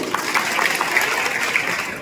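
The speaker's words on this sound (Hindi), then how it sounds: "जोरदार ताली" Applause from a crowd at a political speech, a dense patter of clapping that holds steady for about two seconds.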